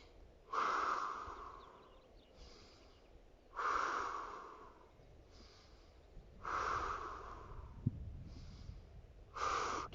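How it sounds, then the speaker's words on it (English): Deep breaths in and out during a Pilates mat exercise, close and audible, with four long airy exhalations spaced a few seconds apart and softer inhales between them, with no talking. "Breath in, breath out."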